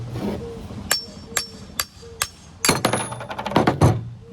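A hammer strikes the largest punch, lengthened with an extension, to drive a bearing out of a John Deere S100 lawn tractor. Several sharp, ringing metallic blows come first, spaced apart, then a quicker flurry of clinking hits.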